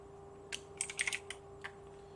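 Keys on a computer keyboard clatter in a quick irregular burst of about eight close, crisp taps over a faint steady electrical hum during a day-trading live stream, with no voices.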